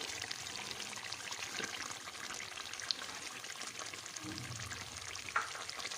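Yogurt goes into softened tomatoes frying in a pan for restaurant-style chicken masala, a quiet, steady sizzle with soft wet bubbling and stirring, close and faint, with no talking.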